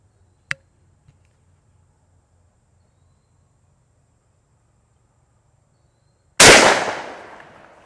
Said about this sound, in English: Try to get down here where I'm shooting level with the target.